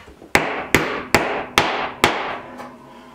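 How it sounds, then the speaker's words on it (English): Five sharp, evenly spaced hammer strikes on a nail ring out close by in a root cellar, each blow decaying quickly before the next, with a faint sixth tap at the end. "I need to go get a hammer and nail that in."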